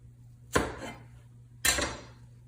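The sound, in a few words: paring knife cutting the rind off fruit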